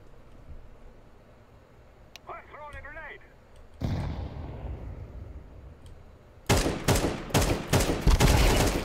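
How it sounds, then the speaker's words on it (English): In a video game, a short whistling tone gives way to a loud blast, then bursts of rapid gunfire crack in quick succession near the end, sharp and close. "Like, where did those shots go?"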